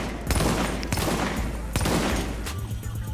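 Rapid M1A rifle shots in the shooter game The Division, a run of sharp cracks fired in quick succession close up over steady game ambience, with no talking.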